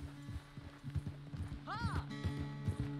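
Horse hooves clop in a quick, rhythmic gallop in the video game Red Dead Redemption 2, close and steady over a low tonal background, with a brief whinny-like cry partway through.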